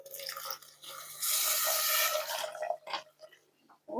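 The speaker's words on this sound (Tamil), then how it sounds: "தண்ணி ஊற்றிக்கிறோம்." Water pours into a cooking pot for a Tamil papaya kootu with green gram, a close splashing stream that swells to a steady gush for about a second and a half, then trickles and drips to a stop.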